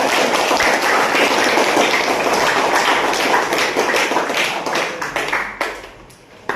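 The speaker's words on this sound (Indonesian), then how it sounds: "Sekali lagi tepuk tangan untuk kalian semua." A classroom of students receives applause: dense, steady clapping from many hands fills the room for about five seconds, then thins out and fades near the end.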